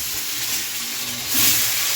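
Fish fries in oil with a steady loud hissing sizzle that swells briefly near the end, with no voices.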